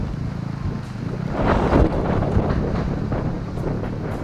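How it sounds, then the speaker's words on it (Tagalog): Gusty wind buffets the microphone in a banana plantation, a low rumbling roar that swells midway and stays steady, with no talking. "Medyo mahangin."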